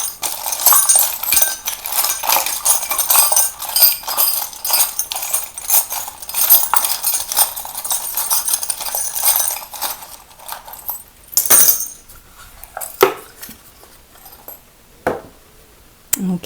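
Small charms shuffle around inside a container, giving a continuous bright clinking and rattling for about eleven seconds, then a few isolated clinks with quiet gaps.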